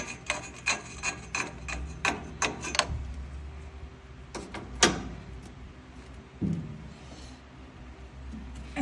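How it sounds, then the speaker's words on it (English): Wrench work loosening a nut on the low-gear band of a Ford Model T, heard as a series of short metallic scrapes, rasps and clicks close by, in uneven bursts with quiet gaps between them. "for the low gear, we're just going to loosen up this nut."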